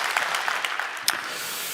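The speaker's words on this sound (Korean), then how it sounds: "우리 주님께 감사의 영광에 박수를 올려드립니다." A church congregation applauding during a sermon, a dense, even crowd of clapping heard close and moderately loud, sustained for the whole short stretch with no talk over it.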